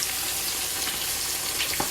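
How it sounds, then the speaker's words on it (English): Fish, including skin-on fillets and bone-in catfish, fries in hot oil with a dense, continuous sizzle and crackle, close and fairly loud, with no voices. "as you can see, I got my fish frying"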